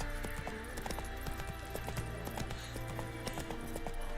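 Roach the horse gallops in The Witcher 3, with steady, close clip-clop hoofbeats running throughout, a brief whinny, and game music and ambience underneath.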